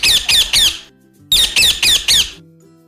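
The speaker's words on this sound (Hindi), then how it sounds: "तोता।" Parrot squawking in two loud, close bursts of repeated harsh shrill calls, three then four in quick rhythm, separated by a brief pause.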